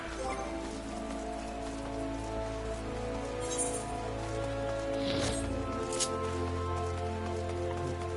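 Steady rain pattering on surfaces in the Final Fantasy XIV game world, a constant even wash with faint game sounds and a low hum underneath, no voices.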